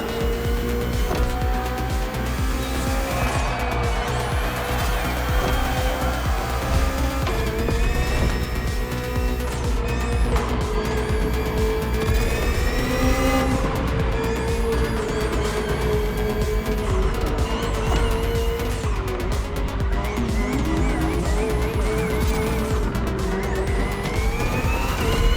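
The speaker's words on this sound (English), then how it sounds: "Finally, the BMW M Hybrid V8. What a beast." BMW M Hybrid V8 endurance race car from 2023 in The Crew Motorfest, a loud sustained engine drone with shifting pitch and occasional tire squeal, continuous and close throughout with no talking.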